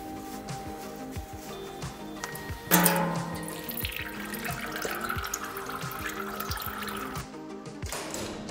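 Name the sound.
transmission oil draining from Getrag DCT450 drain plugs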